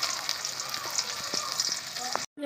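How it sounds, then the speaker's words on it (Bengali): Fish fry a couple of pieces at a time in a pan, a dense close sizzle with a few soft scraping and stirring touches, cutting off abruptly at the end. "মাছ ভাজা হচ্ছে, দেখুন দুটো দুটো করে ভাজছে"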